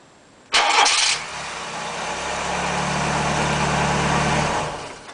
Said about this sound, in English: let me go round here and start the car up and show you how beautifully it sounds